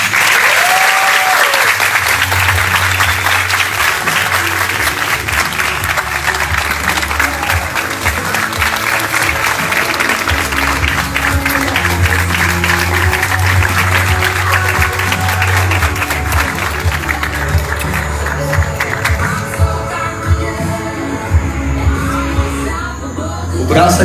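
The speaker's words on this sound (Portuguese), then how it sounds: "Uma salva de palmas pro Carlinhos." Sustained audience applause, loud and dense throughout, mixed with some cheering and crowd noise over low music, thinning slightly near the end, for Carlinhos at the close of a live stage show.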